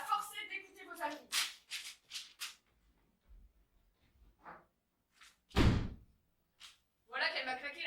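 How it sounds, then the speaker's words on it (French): A door slams once, a single loud thud in the middle of a stage play, with a voice speaking before and after it in a quiet room. "Voilà qu'elle m'a claqué la porte au nez."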